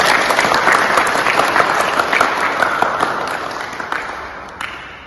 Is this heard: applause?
yes